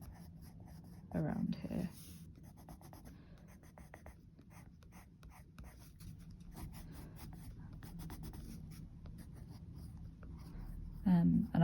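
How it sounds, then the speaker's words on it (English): A cork-coloured pencil colouring in on paper, a soft continuous scratchy rub with rhythmic strokes, close and quiet, while a voice talks over it. "I'm just taking the cork colour and filling in"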